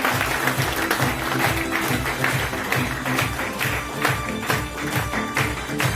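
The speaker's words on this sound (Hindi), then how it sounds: "एक बार इस संस्था के जोरदार तालियां हो जाए।" An audience at a Safe Shop business seminar applauds for several seconds. The clapping is dense and fairly loud, forming a continuous patter with a low hum running beneath it.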